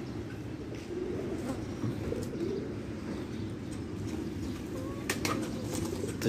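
A flock of domestic pigeons lifts off around a rooftop loft, cooing and rustling in a dense, continuous low murmur, close and moderately loud, with a few sharper chirps.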